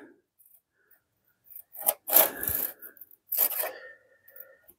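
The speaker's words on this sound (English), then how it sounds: "I got one of these modern saws because it's going to cut a lot better" A modern hand saw cutting wood comes in two short bursts of rasping strokes, close and fairly loud, with near silence between them.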